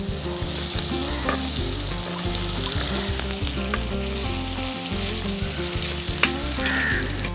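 Green chilies and curry leaves fry in hot oil in a pan for a village-style crab thoran, giving a loud, steady sizzling hiss with crackles and occasional stirring clatter, close up, with no voices.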